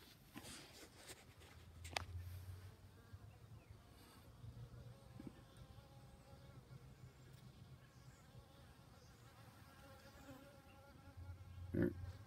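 A single honey bee buzzing beside a backyard hive, a steady faint drone that rises and fades as it circles close to the microphone, alone without talk.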